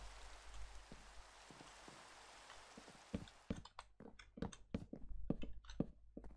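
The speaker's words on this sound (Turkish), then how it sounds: "Vay arkadaş ne yağmurmuş ya bu." Minecraft rain pours steadily as a broad, close hiss, with separate crisp drop-like taps growing denser and louder in the second half.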